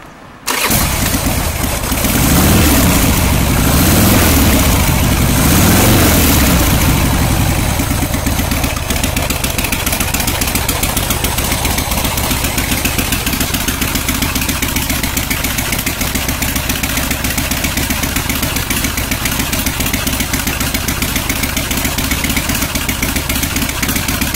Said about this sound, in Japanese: ではエンジンをかけます。